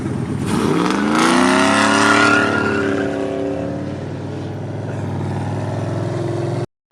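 A turbocharged 6.2-liter GMC Denali accelerates hard in a full pull, the engine note rising steeply and holding a loud sustained roar for several seconds before cutting off abruptly.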